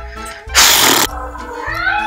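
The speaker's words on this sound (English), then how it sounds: "my cat's gotta cause a ruckus" Pet cat making a ruckus indoors, with short meow-like vocal sounds around a sudden loud burst of rustling noise in the middle, mixed with faint background voices.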